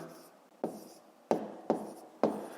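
Numbers written by hand on paper during a fifth-grade long-division exercise: four or five distinct scratchy pen strokes, each starting with a sharp onset and fading, in a quiet room.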